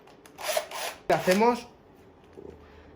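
A 10 mm drill bit worked by hand around the rim of a kart axle hole to strip off the burr, giving two short metallic rasping scrapes, the second a bit stronger, close up with no one talking.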